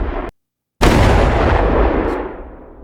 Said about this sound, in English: we have this Unity random container for the explosion